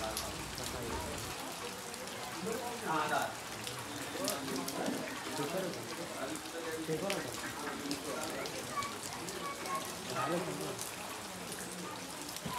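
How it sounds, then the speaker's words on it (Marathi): Heavy rain pours steadily over a flooded market area with water rising into shops, a constant hiss of drops on wet surfaces, with scattered voices and bustle mixed in throughout. "खरंच 2 दिवस खूपच पाऊस पडतो, त्याच्यामुळे पाणीसुद्धा वाढत चाललं आहे."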